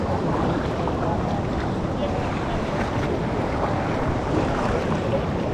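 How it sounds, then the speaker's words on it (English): Whitewater rapids on a river in Ecuador rush loudly and steadily during a rafting trip, a dense churning roar with wind noise, and people are likely talking underneath it. "It is decent rapids though."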